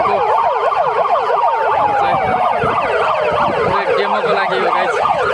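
Several ambulance sirens wailing at once as emergency vehicles arrive together at a petrol pump during an accident rescue demonstration, overlapping rising and falling tones, loud and continuous with vehicle rumble underneath.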